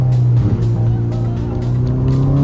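Ferrari Roma Spider convertible engine revving, a steady loud sporty drone with a rising pitch toward the end, continuous and close throughout.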